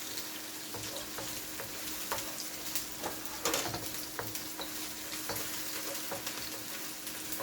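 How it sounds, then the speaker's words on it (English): Steady sizzling of onion, garlic and pepper frying in a pan, a constant crackling hiss with occasional sharper pops and scrapes, close up and without talk. "my onion and my garlic and my pepper is frying up nicely"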